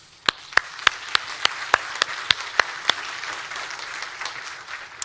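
A church congregation applauds steadily, a dense wash of clapping with a few sharper nearby claps standing out at a regular pace.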